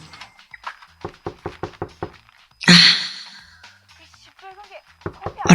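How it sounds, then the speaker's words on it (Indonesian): Knocks on a door in an Indonesian horror radio drama: a quick run of about eight sharp raps, followed by a loud burst of sound and a voice. "Terdengar suara ketuk-ketuk pintu."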